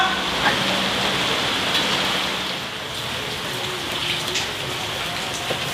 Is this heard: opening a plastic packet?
no